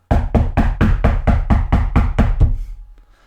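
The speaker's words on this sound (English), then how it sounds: "Rainbow Dash pounding on Applejack's door" Heavy fists pound a wooden door in a rapid, even run of about ten loud knocks over roughly two and a half seconds, then stop and the sound fades out.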